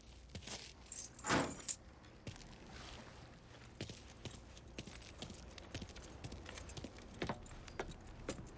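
Keys jangle in the Mafia 3 video game with a brief, fairly loud metallic rattle, then a run of soft tapping and clip-clop-like footsteps that continues quietly throughout, with no voices.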